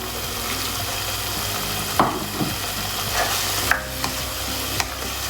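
Peas tossed into potatoes frying in tomato puree, a continuous sizzle with clattering stirs and a few louder knocks of the spoon against the pan, close and without speech.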